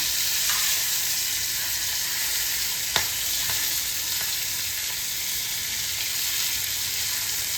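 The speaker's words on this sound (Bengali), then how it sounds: "মাছগুলো প্রায় ভাজা হয়ে গেছে," Hilsa fish fry in hot oil in a pan, a steady dense sizzle with a few brief pops and a light clink of stirring, no voices.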